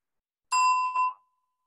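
A bell rung during a meditation session, a clear ding followed quickly by a second soft strike, the tone ringing briefly before fading into silence, with no talk.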